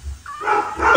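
A dog barks and yips a few times in quick succession, fairly close and moderately loud, with some indoor room noise around it.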